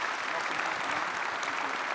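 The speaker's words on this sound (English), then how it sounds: "if we could get a round of applause for our panelists" An audience at a SkillsUSA career expo opening ceremony gives panelists a round of applause, with dense, loud clapping that fills the whole moment without a break.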